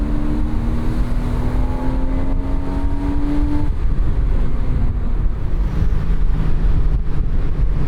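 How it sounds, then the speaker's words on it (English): A first-generation Porsche Boxster convertible cruises with its top down, its engine note a steady, rising drone that shifts pitch partway through, wrapped in constant wind rush and road noise with no talking. "Even in December, you can drive a convertible with the top down."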